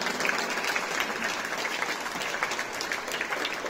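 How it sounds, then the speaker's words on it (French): Audience applause at the close of a lecture, a dense, steady patter of many hands clapping together at an even level for several seconds. "Je pense qu'on peut l'applaudir pour remercier un petit peu Michel"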